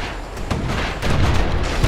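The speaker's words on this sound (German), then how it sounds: "Wow, die schießen." Enemies shooting in the game Bastion, with dull thumping shots and booms scattered through a dense, noisy battle soundscape at moderate loudness.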